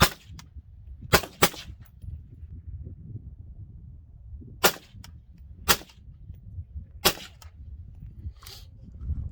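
Rifle shots from a Law Tactical ARIC fire as sharp, loud, close cracks, two quick pairs and several singles spread across quiet stretches with low background rumble.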